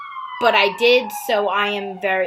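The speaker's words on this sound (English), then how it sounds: "excuse the siren in the background." A siren wails in the background outside an open window, a steady high tone running throughout, while someone speaks over it close up.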